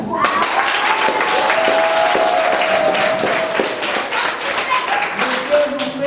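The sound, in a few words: audience applause at a wedding ceremony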